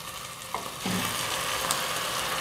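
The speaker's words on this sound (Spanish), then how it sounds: "y en este momento le voy a agregar las mollejas también" Chicken gizzards fry in a pan with a dense, continuous close sizzle that grows louder as they hit the hot oil, with a few stirring clatters.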